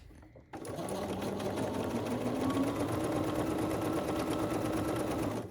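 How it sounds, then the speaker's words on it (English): A sewing machine stitching a quilt block starts up after a short pause and runs continuously at a steady, fast, close whir until the end. "Get it where you want it before you stitch it down."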